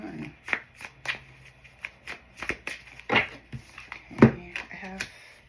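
Oracle cards shuffled by hand in repeated crisp riffling bursts, close and fairly quiet, with faint voice and handling noises between them.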